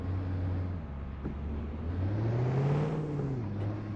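A pickup truck engine in the driving game Truck & Logistics Simulator, a steady low motor drone whose pitch rises smoothly and falls back, moderately quiet and without talking.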